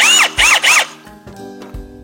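Electric drill whirring in three short high-pitched bursts that rise and fall in pitch, close and loud, followed by faint clunks and a low hum as it winds down.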